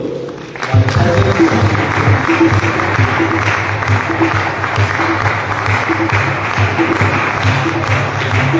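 An audience claps at a Christmas celebration in a college hall, loud sustained applause from a large crowd that swells in after a brief moment and holds steady throughout.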